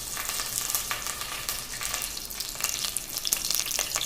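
Curry leaves sizzling in hot oil for a mutton kheema fry, a steady crackling hiss with scattered sharp pops, close and alone without talk.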